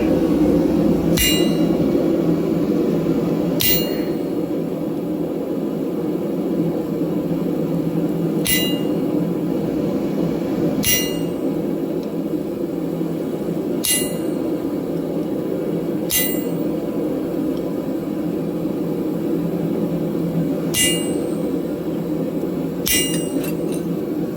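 Hammer blows drive a punch through a piece of steel on an anvil while caltrops are being forged, with about nine sharp, ringing metallic strikes spaced irregularly over a steady, loud roar like a forge fire.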